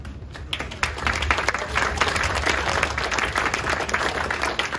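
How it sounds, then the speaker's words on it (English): Concert audience applauding after a community band's Christmas performance, a steady, dense clatter of many hands clapping throughout, fairly close and sustained with no talk over it. "let me give our conductor a great round of applause"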